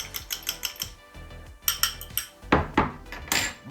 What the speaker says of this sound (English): we're just gonna take this egg and we're just gonna beat this egg up